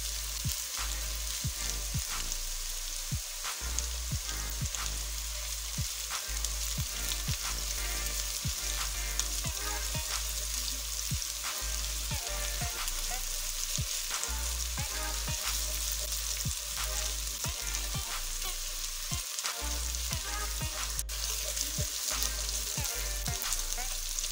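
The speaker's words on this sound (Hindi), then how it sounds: "इसे भी हल्का हल्का फ्राई कर लेंगे।" Garlic-ginger paste and softened onions fry in a pan with a steady, moderately quiet sizzle and crackle, punctuated throughout by stirring scrapes and soft clatters.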